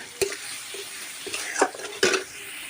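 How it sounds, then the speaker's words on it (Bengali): Fish curry masala with tamarind being stirred in a pan, several sharp scraping strokes of a spoon over a soft sizzle, close and intermittent, with no voices. "1 মিনিটের মতো একটু নেড়ে নেব।"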